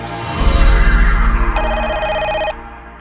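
A telephone bell rings for about a second in a Malayalam comedy film scene, its bright electronic ring cutting in over a loud, low rumbling background.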